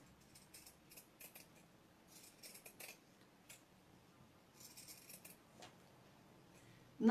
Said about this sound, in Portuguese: eu vou cortar com uma tesoura reta mesma.